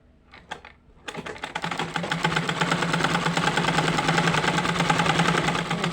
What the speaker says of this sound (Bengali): এখন কি সুন্দর সেলাই হচ্ছে